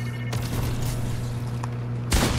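A FAMAS rifle fires in Fortnite: two short, sharp bursts of shots, one early and one at the end, over a steady low electronic hum.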